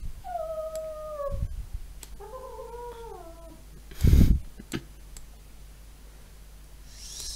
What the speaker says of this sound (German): sei leise, Hund